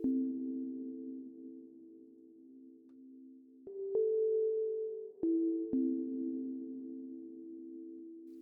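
Ambient synth pad built from stock plugins, sustained tones shifting pitch partway through, washed in hybrid reverb with echo and grain delay; steady, moderately quiet, no voices.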